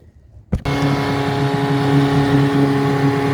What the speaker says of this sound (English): started with a choke, had to give it some gas on the throttle right after it kicked in